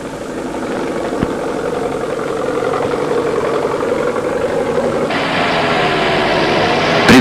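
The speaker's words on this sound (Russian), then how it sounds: "Он приводится в действие от двигателя через вал отбора мощности." A tractor engine drives a soil-throwing forest fire suppression machine through its power take-off shaft, a loud, steady mechanical drone that rises and roughens midway as the thrower takes load.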